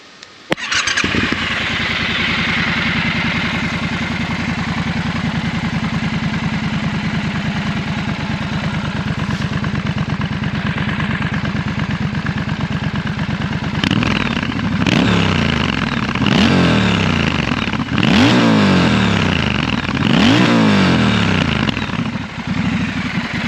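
A 2021 Triumph Scrambler 1200 XE motorcycle engine cranks and starts, settles into a steady idle, then is revved several times in sharp, rising bursts.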